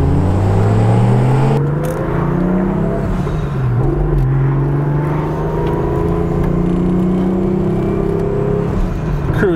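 A Volvo sleeper car fitted with a 2JZ engine cruises along, its steady engine drone and road rumble continuous and close throughout with slight rises in pitch, no talking.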